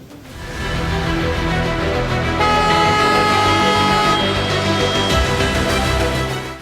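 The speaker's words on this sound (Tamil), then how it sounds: "இந்த ஹாரன் சத்தமும் வண்டியோட இறைச்சலும் வந்து தொடர்ந்து கேட்டுக்கிட்டு தான் இருக்கும்" Loud, overlapping vehicle horns honking continuously over the roar of heavy street traffic in Chennai, with no talking.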